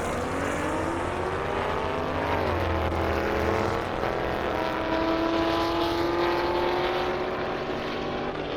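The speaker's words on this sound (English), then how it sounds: "Watch this Trackhawk launch" Jeep Trackhawk launching at an airstrip drag race, a loud sustained engine roar climbing steadily in pitch through the gears as it pulls away, with no talk over it.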